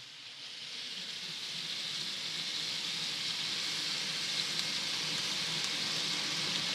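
Prepared rice tipped into a hot frying pan for breakfast fried rice, setting off a steady, broad sizzle that swells slightly and holds continuously, with no voices over it.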